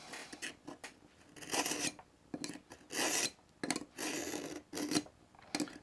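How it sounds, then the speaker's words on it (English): A knife is drawn through a Smith's Hunt & Fish handheld sharpener in repeated short rasping strokes, quiet and close, with brief pauses between the pulls. "you can tell where I start sharpening because it won't go all the way into the sharpener itself"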